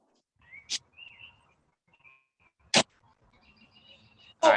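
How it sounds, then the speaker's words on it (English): A small bird chirps in short, thin tweets with long pauses between them, faint and somewhat distant against near silence, with a few sharp clicks or knocks close by. "a bird."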